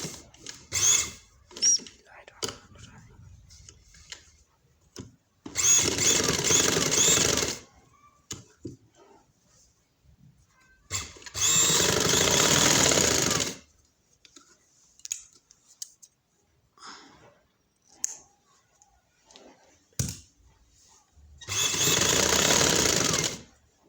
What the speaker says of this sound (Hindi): ये देखिए जी, ये हम मशीन पर आ गए। तो अब हम लगाएंगे इधर सिलाई।